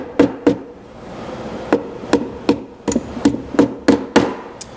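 Close, sharp hammer blows bend over brads driven into oak at a workbench, about ten taps in an uneven rhythm with short pauses, no talking.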